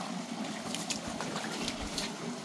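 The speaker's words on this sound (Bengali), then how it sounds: "খুবই সুন্দর একটি ঝর্ণা।" Water rushes steadily over rocks in a stony hill stream with a small waterfall near Sreemangal, Moulvibazar, a constant broadband wash with light splashing, no voices heard.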